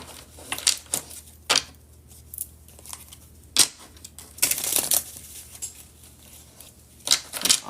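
Angel cards being shuffled by hand, a series of irregular crisp snapping and riffling bursts separated by short quiet gaps, close and fairly loud, with no talking.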